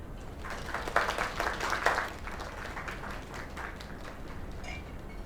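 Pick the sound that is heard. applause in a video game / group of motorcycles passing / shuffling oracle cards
applause in a video game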